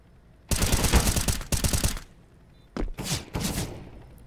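Two loud bursts of rapid automatic gunfire from the video game CS:GO, followed after a pause by a few shorter separate shots, close and unaccompanied by talk.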